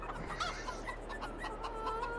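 Chickens clucking in the farming video game Farming Simulator 22, a run of close, steady clucks and soft squawks over a low background hum.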